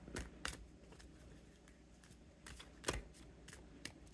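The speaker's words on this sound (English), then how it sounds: "So let's shuffle these cards out." Tarot cards are shuffled in short bursts of crisp riffling and slapping, a couple of louder flurries separated by quieter shuffling, close and without speech.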